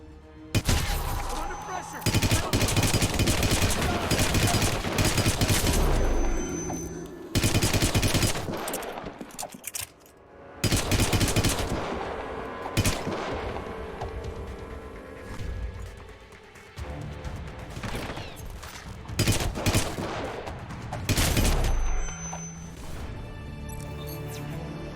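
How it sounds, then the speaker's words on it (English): Heavy bursts of gunfire in the stealth game Hitman Absolution, long loud volleys broken by short pauses, with crashes and impacts mixed in. "Gun sounds like a cartoon Warhammer hitting me"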